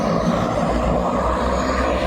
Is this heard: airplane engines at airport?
yes